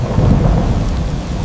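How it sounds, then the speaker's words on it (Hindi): Thunder rumbles and heavy rain pours steadily and loudly in a dense, continuous roar, alone with no voices, as a storm effect in a Hindi children's story about a tiger caught in the rain. "हाय, ये कैसी बारिश है।"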